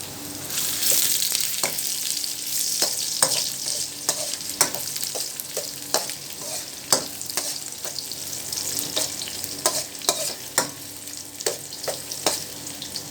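Garlic and onion frying together in a pan give off a steady close sizzle, broken by regular scraping and stirring clicks, with no talk.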